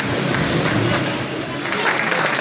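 Audience applause at a student felicitation event in Andheri West, a steady dense wash of clapping from a gathered crowd, continuous and fairly loud throughout.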